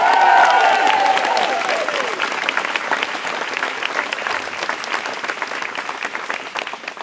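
An audience gives a sustained round of applause, loud and dense from the start. A brief tonal sound overlaps at the opening, and the clapping thins slightly toward the end.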